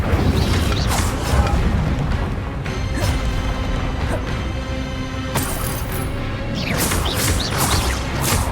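A magic fire spell cast in Hogwarts Legacy: a sustained whooshing, crackling burst with repeated crash-like hits, loud and dense throughout amid game effects.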